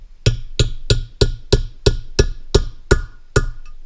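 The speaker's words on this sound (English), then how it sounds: "Take a hammer." A hammer strikes a 12mm socket to tap a valve stem seal onto an engine valve: ten sharp metallic taps in an even rhythm, close and loud, with no talking.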